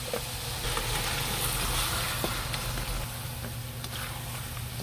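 Meat for Batangas sinungaok sizzles and fries steadily in a hot pan, a dense continuous crackle with occasional small pops, close and alone with no talking.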